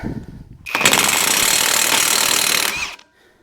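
A Hyper Tough 20V 1/2-inch high torque impact wrench fires in one sustained, loud burst of rapid hammering lasting about two seconds, starting abruptly and cutting off with a brief wind-down.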